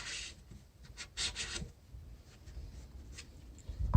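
Wood edge peeling off a timber frame tenon for a queen post, a few short dry rasping scrapes in quick bursts, close and fairly quiet, with no talking.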